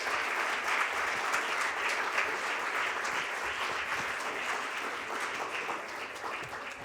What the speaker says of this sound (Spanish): Un fuerte aplauso para el Padre Javier